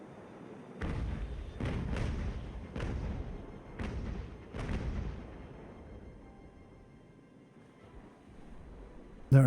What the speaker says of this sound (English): Come on, get those guns firing.